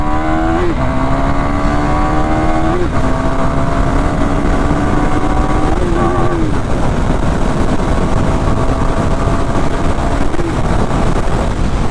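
A KTM Duke 390 Gen 2 motorcycle engine roars loud and close through a first-gear power wheelie, its pitch repeatedly rising hard and snapping up through throttle bursts over heavy wind rush, with no talking.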